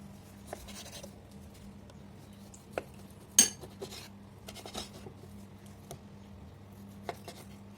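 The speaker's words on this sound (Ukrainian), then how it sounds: "Приступаємо до нарізання підчеревини і будемо її обсмажувати" Scattered knife cuts and taps on a board as pork belly is sliced, irregular and close, with one sharper clack of metal on a hard surface.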